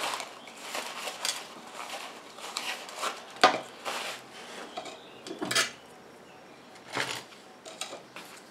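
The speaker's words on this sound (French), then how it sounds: "Je viens mettre tout ça en pot, bien sûr désinfecter." Homemade pink clay and carrot face mask being scooped into a jar: soft scraping and light clinks of a utensil against glass or ceramic, a handful of sharper taps standing out from quiet rubbing, close and fairly faint, no talk.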